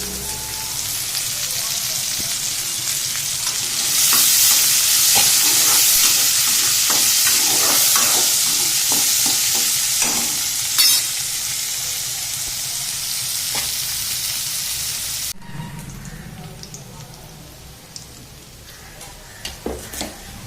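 Chopped onions sizzle steadily in hot oil as they brown, with frequent scrapes and clinks of a spatula stirring through the pan; the frying quietens noticeably toward the end.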